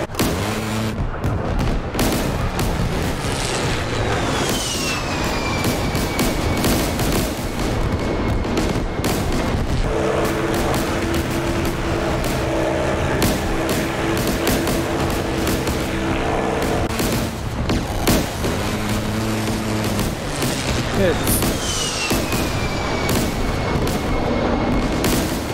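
Aircraft machine guns rattle almost without pause in a WWII flight video game set during the Operation Tidal Wave raid, mixed with heavy booms and a steady engine drone for the whole stretch.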